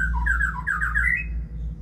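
A white-rumped shama (murai batu) gives a quick run of close, harsh squawking notes over a steady low hum, with no talking.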